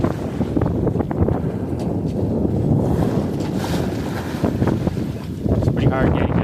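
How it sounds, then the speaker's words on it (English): Strong wind buffets the microphone aboard a Cape Dory 25 sailboat heading out of an inlet against wind and tide, a loud continuous roar with gusty surges and water noise mixed in. "It's pretty hard getting out with the wind and the tide against me."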